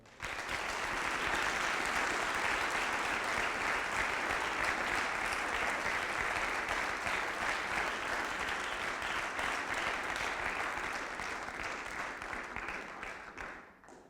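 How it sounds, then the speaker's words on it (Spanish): Sustained applause from a seminar audience welcoming a speaker, a steady dense wash of clapping lasting about thirteen seconds before tapering off at the end. "pido demos la bienvenida con un fuerte aplauso"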